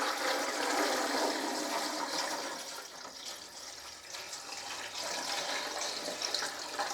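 Water pours steadily into a canner over jars of vegetable soup, filling to about two inches deep: a continuous rushing, splashing flow that eases slightly midway, with no voices.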